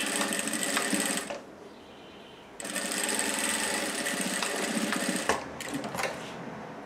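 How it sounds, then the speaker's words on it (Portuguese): A sewing machine stitches fabric in long continuous runs, a loud, close mechanical whir broken by brief pauses and short restarts. "Eu venho direto costurando, ó."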